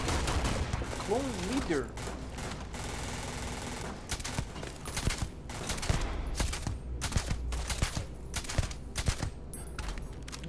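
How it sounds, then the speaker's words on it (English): Rapid bursts of gunfire aimed at the player in the space game Starfield, clustered shots and fusillades crackling across the scene while someone speaks briefly over the shooting. "Who the fuck is shooting me?"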